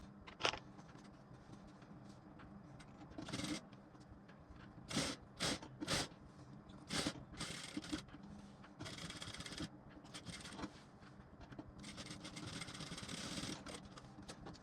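A sewing machine stitches a four-dart blouse, running in short bursts of rapid mechanical clatter separated by quiet pauses, with a longer stretch of stitching near the end, close and fairly quiet, with no talk.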